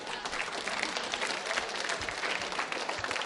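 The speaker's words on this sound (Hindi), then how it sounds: "तालियां जोरों से बजनी चाहिए" Loud, steady applause from a large crowd at a school quiz show, sustained throughout with dense clapping and no break.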